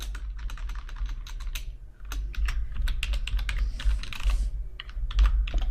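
Rapid, uneven keystrokes on a computer keyboard while entering a PostgreSQL query, close and steady for several seconds with brief pauses between bursts, over a low background hum and no talk.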